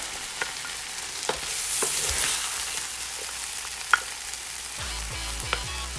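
Fried rice sizzles steadily in a frying pan, broken by occasional sharp crackles and pops, with some scraping and clattering toward the end.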